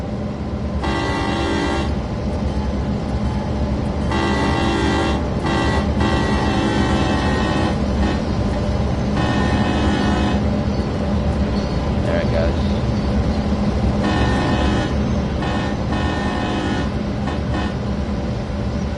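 A Clinchfield Railroad diesel freight in Train Sim World 2 rumbles steadily with a deep engine drone, its horn sounding in several long blasts, while someone talks over it.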